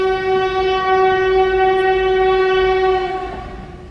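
A train blows a long, loud, steady horn blast close by over the rumble of running rail cars, the tone holding throughout before easing slightly at the end.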